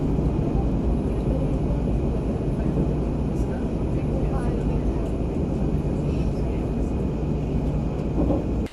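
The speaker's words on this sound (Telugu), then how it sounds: "ఇది మెట్రో ట్రైన్." A metro train runs past a moving Vande Bharat Express near Hazrat Nizamuddin, heard as a steady, loud rumble and roar that holds for the whole stretch without a break.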